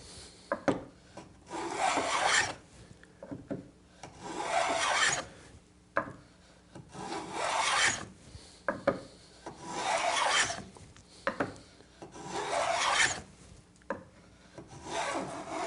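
A Lie-Nielsen tongue and groove hand plane cuts wood in repeated rhythmic strokes, each a close, raspy shearing swish followed by a quiet pause and light knocks as the plane is reset.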